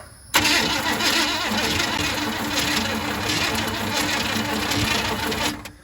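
A neglected 1981 Chevrolet K10 truck engine, apparently dead, cranks steadily for several seconds, a loud continuous starter grind that never catches and runs, then cuts off.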